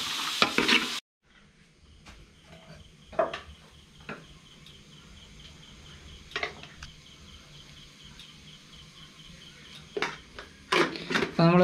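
Clam meat from the backwater is stirred with spices in a frying pan: soft scrapes and a low sizzle come in scattered bursts between quiet stretches, with occasional speech.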